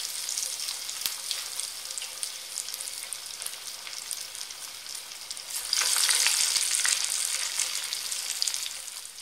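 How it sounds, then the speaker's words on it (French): Falafel balls of chickpea deep-frying in a bath of hot oil, a steady close bubbling sizzle that swells louder partway through and continues without any voices. "Je vais les faire frire dans un bain de friture"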